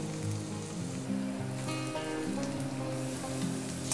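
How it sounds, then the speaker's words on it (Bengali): Onion and snake gourd frying in a pan, a steady crackling sizzle with a soft, even hiss and no talk. "পেঁয়াজটা বেশি ভাজবো না, হালকা ভেজেছি। এবার চিচিঙ্গের সাথে ওটা ভাজা হয়ে যাবে।"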